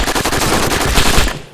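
Rapid automatic gunfire from a PvP firefight in the video game DayZ, a dense loud burst of shots lasting over a second before cutting off.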